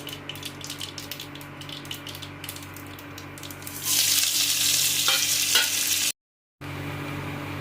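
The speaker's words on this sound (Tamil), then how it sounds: "கருவேப்பில் ஒரு அரை கை அளவுக்கு கடலப்பருப்பு எடுத்துருக்கேன் இதை அதில் போட்டுடலாம்" Chana dal and curry leaves dropped into hot oil after mustard seeds have popped, with a burst of loud close sizzling and stirring that suddenly swells midway, then briefly cuts out before the frying resumes.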